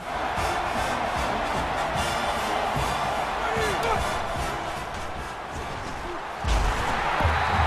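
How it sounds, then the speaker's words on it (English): A crowd roars steadily through a football game between Kentucky and Oregon, a broad loud wash of cheering that swells near the end, with a commentator talking over it. "The crowd is really letting them hear it"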